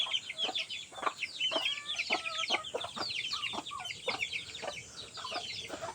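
Chickens on a farm cluck and squawk close by in a busy, overlapping chorus of short repeated calls that continues throughout.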